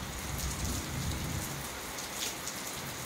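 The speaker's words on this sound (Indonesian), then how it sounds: "Nah, hujan." Steady rain falls in a dense even patter with a low rumbling undertone, continuous and moderately loud throughout.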